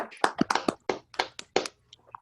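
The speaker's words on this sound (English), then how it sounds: "I just want to have everyone be able to give you a nice little round of applause" A few participants on a video call give a brief round of scattered hand claps. The claps are quiet, uneven and separate taps rather than a full ovation.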